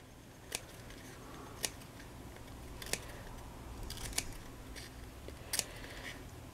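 Scissors snip through thin card while trimming a miniature golf caddy model, producing about six or seven sharp, separate cuts at irregular intervals over a quiet room background.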